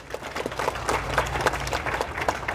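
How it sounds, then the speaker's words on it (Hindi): Brief burst of clapping from a modest crowd, irregular and moderately loud, lasting only a couple of seconds. "जोरदार तालियां"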